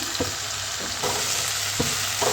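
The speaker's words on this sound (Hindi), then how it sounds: "और प्याज की भी मैं इसके साथ भुनाई करूँगी" Chopped onion frying with bottle gourd in a pan makes a continuous loud sizzle, with four or five soft spatula scrapes at uneven intervals.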